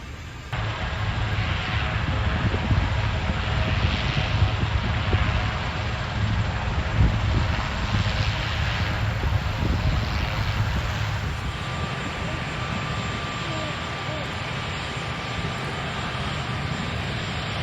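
Steady loud rotor and engine roar from the Marine One presidential helicopter lifting off, with gusty wind buffeting the microphone throughout; the roar eases slightly toward the end.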